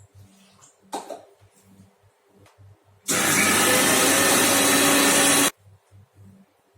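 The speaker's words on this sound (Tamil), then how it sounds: "மிக்ஸி அரைச்சாச்சு மசாலா" A kitchen mixer grinder runs for a single loud burst of about two and a half seconds, grinding a masala paste of dried chillies, small onions and a little water, between quieter kitchen noises.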